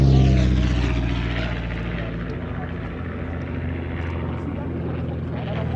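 Vintage propeller aeroplane Grosvenor House flying at the Shuttleworth Race Day air show, with a loud, close, steady engine drone that eases slightly as it passes.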